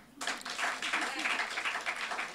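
Audience applause at a Kamban Kazhagam Tamil literary lecture programme in Chennai, a dense, steady patter of many hands clapping that starts abruptly and continues evenly throughout at close range.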